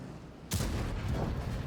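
A tank destroyer's cannon fires once in a video game: a sudden booming blast comes after a quiet moment, then the sound rumbles on with a long, noisy decay.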